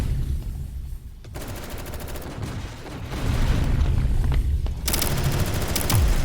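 Rapid light machine gun fire rattles in sustained bursts during a competitive Sector's Edge match, loud and dense, with a brief lull before another continuous volley and scattered extra shots.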